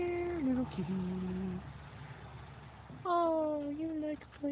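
A kitten gives two drawn-out, wavering meows with a quiet gap between them, close by and alone.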